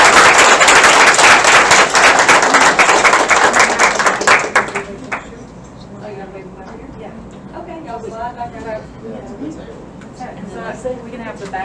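An audience at an honors night claps loudly for about four seconds, the applause cutting off abruptly, after which people talk and murmur quietly in the room.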